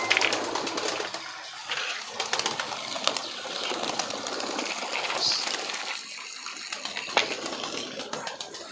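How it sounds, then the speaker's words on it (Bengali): Pigeons in a loft coo softly amid a busy, rustling background of wing flutters and movement, with occasional sharper bird calls standing out over the steady noise. "এই পায়রাগুলো সব আমার ভিতরে রয়েছে।"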